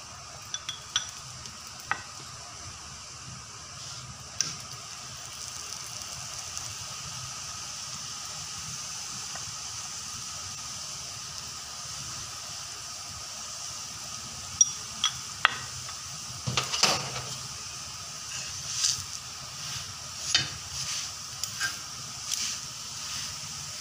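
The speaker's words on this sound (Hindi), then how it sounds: "अब ये फ्राई हो रहा है" Masoor dal paratha frying with ghee on a hot tawa, a thin steady hiss throughout with occasional light taps and scrapes, growing busier toward the end, quiet and close.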